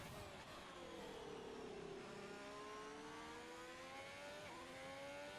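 A race car engine in a sim racing video game at the Netherlands circuit, accelerating with a rising whine through several gear shifts, continuous and prominent with no talk over it.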